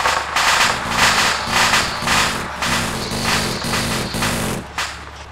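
A helicopter fires its guns in a military video game: loud, rapid bursts of automatic fire repeat in a steady rhythm, close and dense, with no talking.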